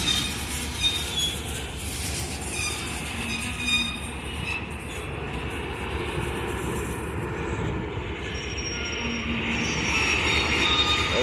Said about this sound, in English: hearing the sounds from the freight cars clicking and clacking on the tracks